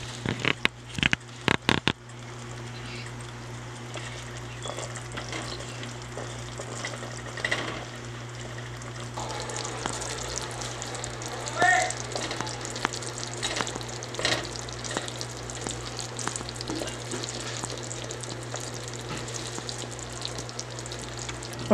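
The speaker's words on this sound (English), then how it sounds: "as you can see how it is boiling, how it is bubbling" Caramel peanut brittle mixture boils in a pot, a steady low bubbling and sizzling that runs continuously with occasional stir clatter, close and moderately loud, no talking.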